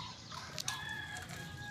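A brooding hen sitting on eggs gives soft low clucks and a brief higher call, close by and quiet, alone against faint background sound.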